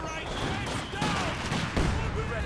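Mortar fire from a mortar pit strikes in Company of Heroes 2, heavy blasts and explosive hits landing over a noisy battlefield din of scattered gunfire, with some talk underneath.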